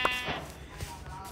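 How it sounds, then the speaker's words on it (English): A short sheep bleat from a blocky mining video game, a single brief wavering cry near the start amid background game noise. "This sheep is so nice to me."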